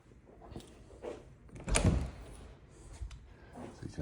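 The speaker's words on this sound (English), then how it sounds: "Let's close these doors." Interior doors of a house closing, a single solid thump with a brief rattle near the middle, close and fairly loud against quiet room tone.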